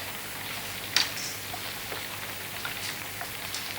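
Steady light rain patter used as a stage-play sound effect for a rainy scene, soft and continuous with a few brighter drop splashes, alone with no voices.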